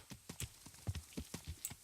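Horse hooves clip-clop in a steady walking rhythm in Kingdom Come: Deliverance, about a dozen crisp, close hoof strikes at an even pace with faint ambient background and no talking.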